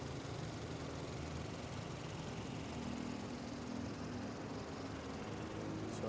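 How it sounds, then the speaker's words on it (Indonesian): A 2016 Toyota Fortuner SRZ automatic with a petrol engine idling: a faint, steady, even low hum with no change in pace and no voices. "Suara irama mesinnya ini masih standar"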